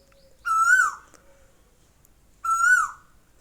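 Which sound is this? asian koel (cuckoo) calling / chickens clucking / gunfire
asian koel (cuckoo) calling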